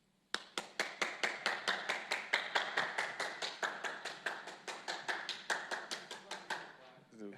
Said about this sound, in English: Let me get a round of applause for him.